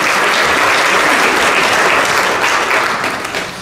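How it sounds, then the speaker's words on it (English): A church congregation claps in praise during a Baptist service, dense, steady applause filling the room at full volume and tapering slightly toward the end, with no talk over it. "Let's give a hand clap of praise for God's name"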